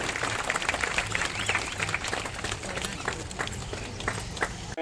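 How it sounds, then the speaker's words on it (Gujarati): An audience at a Diwali sweets distribution event for disabled people breaks into sustained applause, a dense, steady patter of claps with crowd murmur underneath that stops abruptly at the end. "બધા જોરદાર તાળીઓ પાડો ભાઈ"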